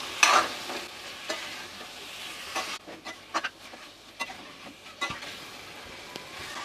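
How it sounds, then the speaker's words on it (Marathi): Drumsticks (moringa pods) being stirred into frying masala for a mixed-vegetable prawn curry, with a soft sizzle under repeated scraping and clinking of a spatula against the pan. "त्यानंतर शेकटाच्या शेंगा घालूया. आता हे सुद्धा आपल्याला मसाल्यामध्ये चांगलं मिक्स करून घ्यायचं आहे."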